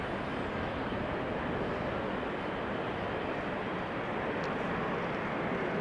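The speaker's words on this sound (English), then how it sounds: "big hitter is exiting Schiphol. A350 Cathay Pacific." A Cathay Pacific Airbus A350 jet departs Amsterdam Schiphol on a showery day, heard as a steady, broad engine roar that stays even in level from start to finish.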